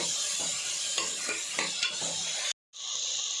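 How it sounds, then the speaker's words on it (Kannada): Finely chopped tomatoes (four of them) sizzle in a pan for egg curry, with a steady bright frying hiss and regular spatula strokes, cut by a brief silence near the end before the sizzle resumes. "ಈಗ 4 ಟೊಮೊಟೊನ ಸಣ್ಣಗೆ ಹೆಚ್ಚಿ ಹಾಕ್ತಾಯಿದ್ದೀನಿ. ಇದನ್ನು ಚೆನ್ನಾಗಿ ರೋಸ್ಟ್ ಮಾಡ್ಕೋಬೇಕು."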